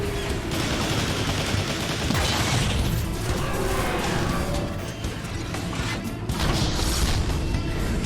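Beam weapons fire and explosions rage in the video game Transformers: War for Cybertron, a loud continuous barrage of zapping blasts, mechanical clanks and booming crashes throughout.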